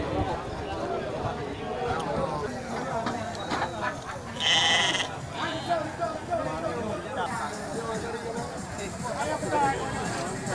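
Male goat bleats rise out of a noisy crowd of livestock and chatter at the Grogol animal market, with one louder bleat standing out midway.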